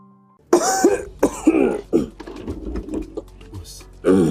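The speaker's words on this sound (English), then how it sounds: "I've had this cough for more than 2 weeks." Repeated coughing, several harsh close bursts at the start followed by rougher, throaty coughs and a final hack, loud and near with no talk over it.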